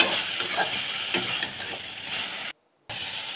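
Dried fish sautéed with vegetables in a pan hiss and sizzle while being stirred, with scraping, clicking strokes of the spoon, close up, and a short dropout of silence near the end.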